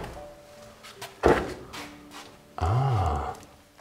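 An old door in an abandoned 1884 mansion is opened, giving a sharp knock or clunk followed by a drawn-out creaking groan of the hinges, close by amid quiet room tone.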